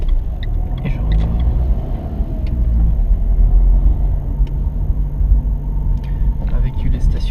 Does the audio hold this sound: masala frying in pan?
no